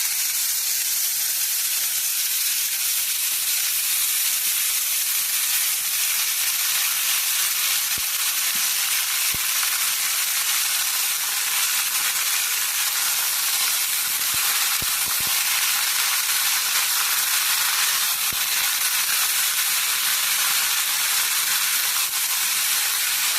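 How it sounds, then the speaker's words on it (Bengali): Chopped bottle gourd fries in oil with cumin, bay leaf and green chilli, giving a loud, steady sizzle and hiss that fills the whole stretch, with occasional soft clicks as the pan contents are stirred. "লাউ নেড়ে চেড়ে নেওয়া হচ্ছে।"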